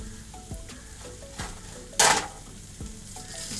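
A spatula scrapes and stirs a prawn roast with curry leaves in a pan, a few distinct strokes over a soft sizzle, with one sharp louder clatter or splash midway; no talking.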